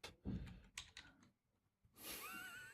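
Keys clatter on a computer keyboard while typing in all caps, a handful of close, soft, irregular taps, followed by a brighter hissing, whistling noise at the end, with no talking.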